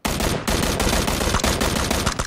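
Rapid, loud gunfire from the video game Battlegrounds fills the moment, a dense burst of overlapping shots with only a brief dip before the firing resumes without talk.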